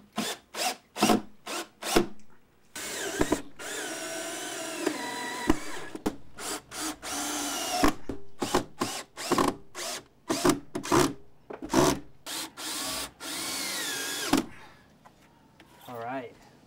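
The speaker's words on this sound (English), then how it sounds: "we drive in our screw" Power drill driving screws through shims into wood, repeated short bursts of whining motor with longer runs of steady drilling, loud and close, with brief quiet gaps between passes.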